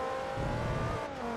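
Engine of a race car in Forza Motorsport 2 accelerating, a close, steady revving drone whose pitch climbs slightly over a brief stretch.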